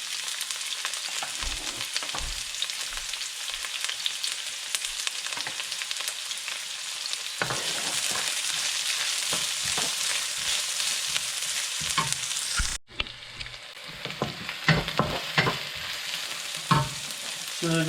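Onion fries in a hot pan with a steady sizzle while a utensil stirs it, bringing scraping clatters and bursts of louder crackle. The frying runs close and continuous with no talking, and the tone shifts sharply near the end.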